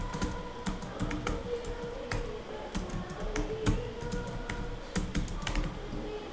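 Close, steady typing on a computer keyboard, a fast irregular patter of light key clicks with occasional louder taps, heard alone.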